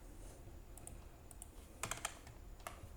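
Code being typed on a computer keyboard: faint, sparse key clicks, with a quick cluster of several presses in the middle and a few isolated taps around it, heard close against quiet room noise.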